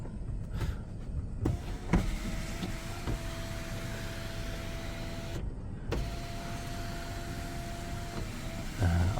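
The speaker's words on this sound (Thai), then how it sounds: "ตัวนี้มีซันรูปอีกอย่างนะครับ นี่มันจะมีซันรูปนะครับ เปิดได้ เปิดปิดได้นะครับ" Motorized sunroof on a white 2012 Lexus RX270 with a petrol engine, whirring steadily as it travels, pausing briefly, then running again in a second long electric hum inside the quiet cabin.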